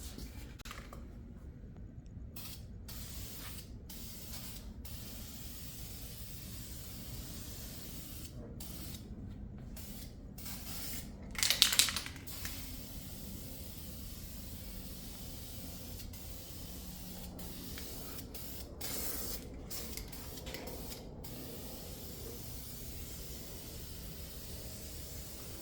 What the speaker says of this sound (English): So here's our spray area. And we constantly spray on this